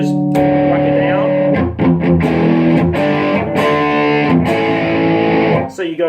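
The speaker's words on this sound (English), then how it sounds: "So you go from clean straight into distortion." Electric guitar through a solid-state amp, strummed clean and then flipped into heavy distortion, the chords turning thick and saturated; loud and steady with brief gaps between strums.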